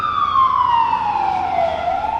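A close fire truck siren wails at a roadside accident scene near Cannon Beach, its pitch gliding slowly downward before turning up again at the end, over a low traffic rumble.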